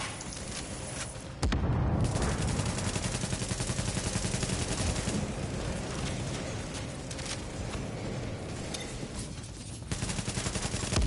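Sustained automatic gunfire rattles in a firefight from The Division, rapid dense bursts running nearly nonstop and loud, with a brief lull before the shooting resumes.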